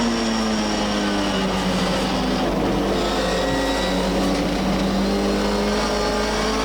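A historic MGB race car at Donington Park runs with a loud, continuous engine drone from on board, its pitch shifting as the driver drops down into second gear.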